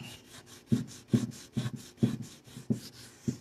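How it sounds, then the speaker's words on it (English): Old finish scrubbed off a piece of wooden furniture during stripping, a close, rhythmic back-and-forth rasping with about seven strokes, alone with no talk. "All right, so I'm just going to start scrubbing it."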